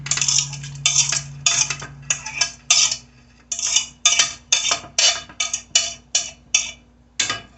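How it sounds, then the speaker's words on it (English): Chopped onions for turkey dressing tumble into a pan in a quick run of crisp, scraping bursts, loud and close, repeating about a dozen times with brief gaps between. "for now I'm gonna toss these onions inside of here"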